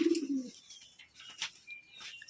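A single short pigeon coo opens, followed by faint chirps and light rustling in a quiet closed room where pigeons are kept.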